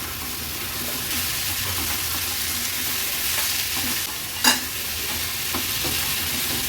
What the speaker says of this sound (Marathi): गॅसची फ्लेम मीडियम वर ठेवून भाजी आपल्याला व्यवस्थित परतून घ्यायची आहे